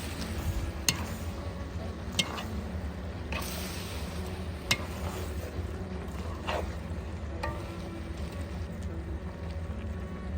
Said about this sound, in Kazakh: Бетін жаппай үлкен отта қуырамыз.